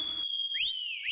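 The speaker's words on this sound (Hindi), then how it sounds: "सीटी।" A sharp, bright whistle shrills steadily from the start, then bends upward in two rising blasts that slide and waver toward the end, loud and alone with no talk.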